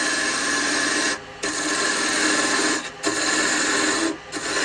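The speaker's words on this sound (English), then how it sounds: "We'll just use a square carbide." Square carbide tool cutting spalted wood on a spindle lathe turning around 1200 rpm, a steady loud rasping scrape broken by three short pauses as the tool lifts off.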